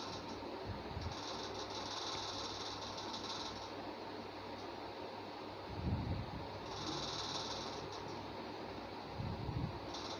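A sewing machine stitches the side of a bag made from an old shirt, giving a continuous mechanical whir that swells in a few bursts over a steady background hum.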